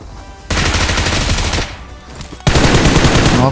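Automatic rifle fire in the BGMI battle royale game, two loud rapid bursts of shots at close range separated by a short pause.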